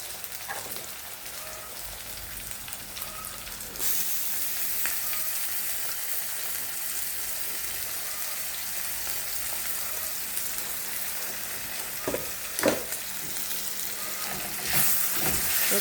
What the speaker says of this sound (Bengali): রসুনটা আর আদাটা একটু ভাজা ভাজা হলে